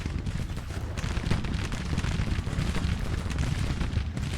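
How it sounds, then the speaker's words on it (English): Rifle fire in a Civil War battle from the strategy game Grand Tactician, a dense continuous crackle of many guns going off together, steady and loud throughout with no voices. "So I suppose they made gunfire rifle fire less deadly and inefficient, a bit more efficient."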